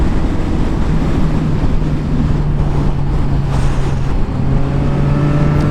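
A Yamaha MT09 motorcycle pulling a sixth-gear roll-on, its steady engine drone rising slightly in pitch beneath heavy, continuous wind rush on the microphone.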